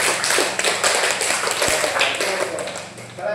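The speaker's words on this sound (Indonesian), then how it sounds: "Boleh tepuk tangan dulu untuk Chelsea" A classroom of students claps together for a classmate after a correct answer in an Islamic school lesson, a dense, steady patter of many hands that holds for a few seconds with a faint voice underneath.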